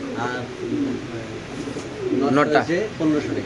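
Pigeons coo softly over steady background chatter, with a few fluttering calls standing out toward the end.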